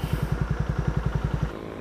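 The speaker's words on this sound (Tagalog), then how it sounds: "maraming mga mabibilis na motor na dumadaan dito" A fast motorcycle goes by with a rapid, even throb of engine pulses for about a second and a half before the sound suddenly drops away.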